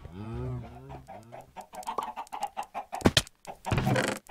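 Chickens cluck in the video game Minecraft, a run of short, repeated, close clucks, with someone speaking German over and between them.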